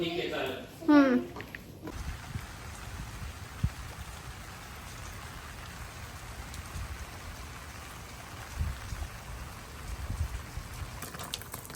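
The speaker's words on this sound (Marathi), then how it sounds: "पाऊस पण खूप जोरात आहे" Heavy rain pours outdoors in cold weather, a soft, steady hiss of drops on surfaces lasting throughout, with a brief burst of voice at the very start.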